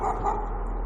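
A dog barks in the horror video game Layers of Fear, a single short, muffled bark over a low, droning ambience.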